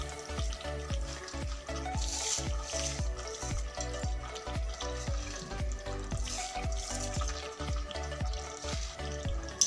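Crushed crispy fried onions sizzling with mutton in a pan, a steady loud frying hiss broken by regular rhythmic scraping and stirring strokes throughout.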